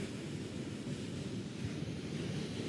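Sea waves wash steadily along the Mersin seafront near houses and a road, a continuous, fairly loud surf roar mixed with wind buffeting the microphone, with no talking.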